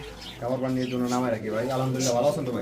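Soft pigeon cooing sits in the background, partly buried under close, continuous conversation.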